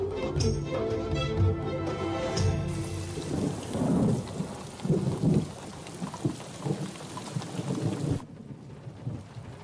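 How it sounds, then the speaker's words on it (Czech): Steady heavy rain pours with deep rolling thunder rumbles in a historical drama scene, and music plays at the start before the storm takes over and cuts off near the end. "Kdy už ustane ten déšť?"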